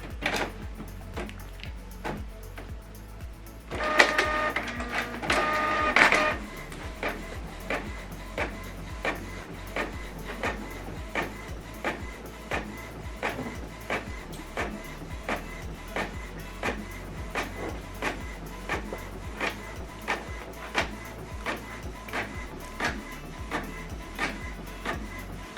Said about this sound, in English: Now this document now is going to print out here.